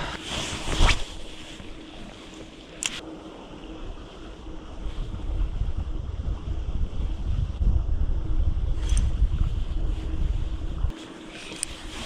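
Loud, blustery wind roars against the microphone with low rumbling gusts, steady throughout, with a few sharp knocks, outdoors while trout fishing at a lake in Ukraine.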